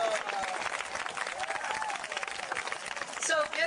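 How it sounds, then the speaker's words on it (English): Audience applause for a speaker being introduced at an event, a dense, steady wash of clapping with crowd noise filling the whole stretch, with some voices mixed in. "a big hand of applause here for Patricia St. Ange"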